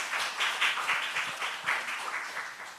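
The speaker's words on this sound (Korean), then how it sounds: "박수 한번 치셔요" An audience at a Korean church prayer meeting gives a short round of clapping, moderately loud, with rhythmic surges before it eases off.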